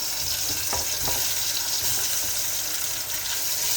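Eggs fry in a pan with tomato for a home lunch, a dense steady sizzle filling the whole stretch, with a couple of faint stirring knocks early on.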